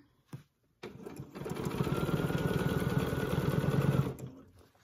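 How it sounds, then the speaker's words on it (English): A sewing machine stitches in the ditch on a quilt, its steady fast needle rattle running loud and close for about three seconds after a brief click, then stopping. "So I'm going to stitch in the ditch down to this corner."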